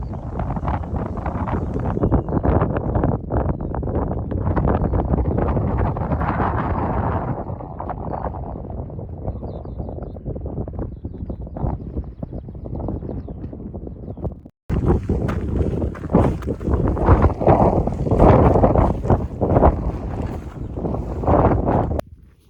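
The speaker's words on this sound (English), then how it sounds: "the wind's picking up through the day" Strong wind buffeting outdoors on the Hebridean Way, a loud continuous roaring rush with gusting surges and wind noise on the microphone, briefly cut then resuming.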